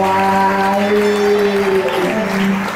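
A church congregation bursts into loud, close applause that carries steadily for a few seconds with a sung or spoken voice mixed in over the clapping.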